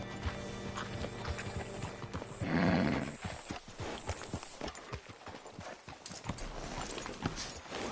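Horse hooves clip-clop in a steady walking rhythm in Red Dead Redemption 2, close and clear, with a brief snorting whinny partway through and faint background ambience.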